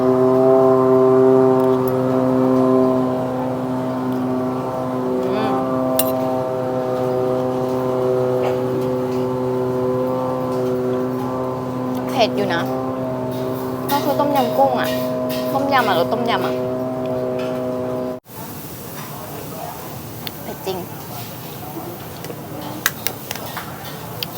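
A loud, steady droning long-tail boat engine with layered harmonic tones runs for most of the clip, then cuts off abruptly, leaving quieter background noise and clatter.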